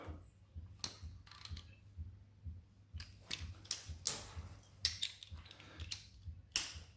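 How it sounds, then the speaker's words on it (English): Ratcheting clicks and metallic taps from tightening two bolts on a Ducati Multistrada gearbox during a shift return spring repair, a series of short sharp ticks near the mic and fairly quiet. "what I'm going to do is just nip these two bolts up"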